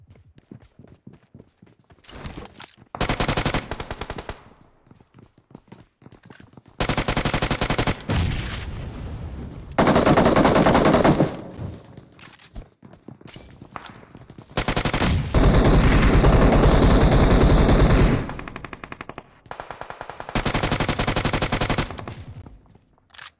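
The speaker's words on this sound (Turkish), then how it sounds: "Abi UMP ne biçim bir silah bu ara ya" UMP submachine gun firing in PUBG Mobile: repeated loud bursts of rapid automatic fire separated by quieter gaps, some bursts long and sustained, close and dominant.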